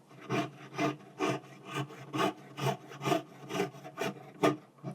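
A blade saws up and down through wax to cut out a heart-shaped charm, about ten even, rhythmic rasping strokes close by with no talking.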